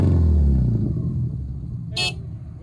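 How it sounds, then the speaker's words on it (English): Horn of a crashed, stuck Subaru Legacy sounding one short, sharp honk, close by, following a fading low engine rumble. "Horn works."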